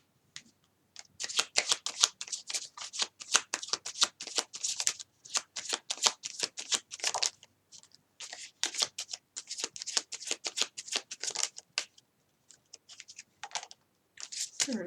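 Tarot cards are shuffled close up in rapid riffling bursts, with quick flicking runs broken by short pauses across the whole stretch and no voice over them.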